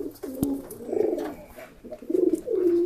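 A young racing pigeon coos in soft, throaty rolling phrases, several short calls close by with brief pauses between them, and no speech.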